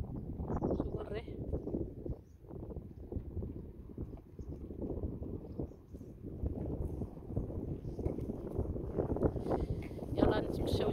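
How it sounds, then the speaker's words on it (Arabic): A cold wind blows outdoors on a walk, buffeting the microphone with a continuous low rumble that rises and falls while a person talks. "شوفوا الريح"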